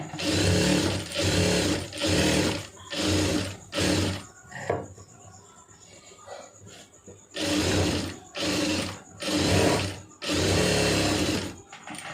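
Sewing machine stitching blouse lining, several loud close bursts of rapid stitching separated by short stops and one longer pause, without talk.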